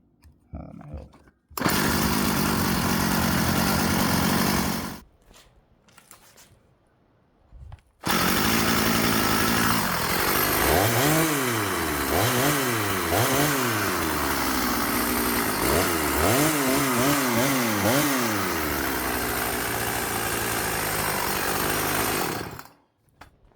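A gas chainsaw fresh from a carburetor tune-up with the high-speed screw adjusted roars loudly after a short start, idles briefly, then revs repeatedly in rising and falling bursts before cutting off.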